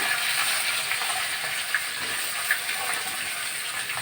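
Chopped dried chillies and garlic frying in hot oil, a constant close hiss that holds steady for the whole stretch with a couple of faint ticks, no voices.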